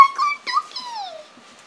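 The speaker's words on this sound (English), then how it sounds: "Oh, I got a doggy!" A Minecraft dog lets out a high, close whimper: a sustained whine, a brief yip, then a drawn-out falling whine that fades, with no speech over it.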